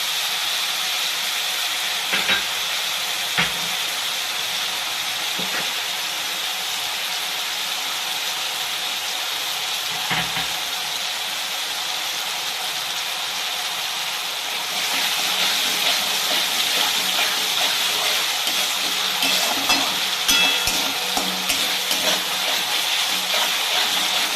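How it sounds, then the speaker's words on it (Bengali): Grated tomato frying in a pan as the base for a vegetarian gravy, a steady loud sizzle and hiss that swells partway through, with occasional spoon scrapes. "আবার সাথে সাথে টমেটোটাকে ভালো করে ভেজে"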